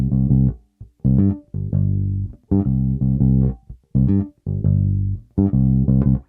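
A funk bass guitar plays a riff in C: short, punchy low notes in a syncopated, repeating phrase with crisp gaps between groups. Solo, clear and close, with no talking.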